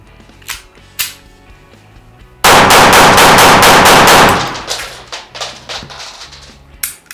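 Retay 84FS blank pistol fired close by: two single cracks, then a fast, very loud burst of rapid shots, followed by fading echoes and scattered small taps.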